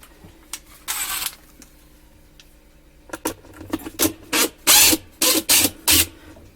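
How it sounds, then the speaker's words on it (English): A screw gun backs Phillips head screws out of a Maytag MVWC415EW1 top-load washer during a basket drive hub replacement. It makes one early burst, then a run of short, loud, close-up whirring spurts with brief pauses between them. "Grab our screw gun, get them Phillips head screws out."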